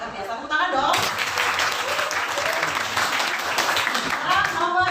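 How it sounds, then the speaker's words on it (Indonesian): A class applauds during a teaching session, the clapping bursting in after a brief spoken moment and continuing as a lively, steady patter while a voice talks over it. "Tepuk tangan dong."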